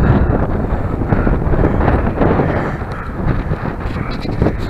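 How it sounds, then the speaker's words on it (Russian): Steady wind on a hillside near Samara gusting and buffeting the microphone, a continuous broadband rush that swells and eases slightly throughout. "Ветер поднялся."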